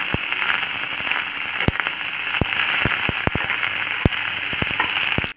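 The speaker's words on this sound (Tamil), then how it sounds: "நறுக்கி வச்சுருந்த வெள்ளை பூண்டும் போட்டாச்சு." Chopped white garlic sizzling with onions and curry leaves in a pan on a low flame, giving a continuous hiss scattered with irregular sharp pops and crackles, close up with no talk.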